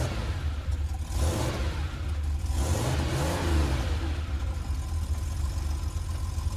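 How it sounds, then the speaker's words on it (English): A sports car engine revs up and accelerates close by, its pitch rising in two surges before it settles into a steady, sustained drone. "Now let's imagine you're in a sports car."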